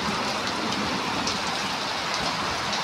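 Heavy rain pours down steadily during flooding, a dense, continuous hiss with no breaks, fairly loud and unaccompanied by voices.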